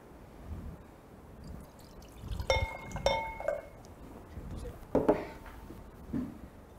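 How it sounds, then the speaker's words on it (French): Tap water pours into a measuring jug in a kitchen, with soft splashing and a few glassy clinks and drips in bursts against a quiet background. "vous allez verser 250 ml d'eau dans votre verre mesureur"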